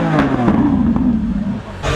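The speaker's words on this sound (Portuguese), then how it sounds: "Lamborghini, hein? Caraca! Quero ver fazer drift" Lamborghini engine revving hard during a drift in a racing game, a loud close throaty roar whose pitch slides and dips, with a brief shift near the end and voices faintly underneath.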